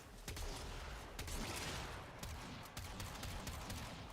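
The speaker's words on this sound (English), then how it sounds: "I'm wielding triple shotguns right now." Rapid volleys of shotgun blasts in the video game Warframe, several sharp bursts crowding together in quick succession with a constant busy combat din behind them, fairly quiet overall and no voices.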